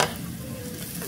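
Garlic fries in a pan for sambal goreng tempe, a soft, even sizzle with a brief clatter at the start, close but fairly quiet.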